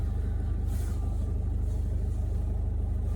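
Steady low engine rumble of a car on the road while driving home, continuous and close with constant road drone and no talk.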